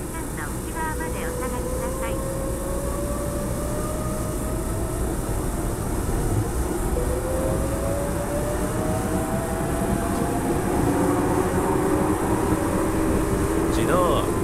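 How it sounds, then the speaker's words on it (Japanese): A Tokyu 1000 series train departing on the Ikegami Line in a railway simulator game, with a steady motor hum and rising whine as it accelerates, under station announcements and speech. "電車が発車します。"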